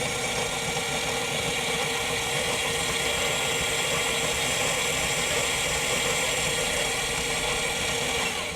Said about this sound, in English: it's just a good chance to test the motor, make sure that all is well there.